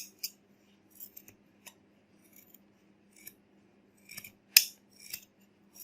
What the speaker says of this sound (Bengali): একইভাবে অপর সাইডটাও কেটে নেব।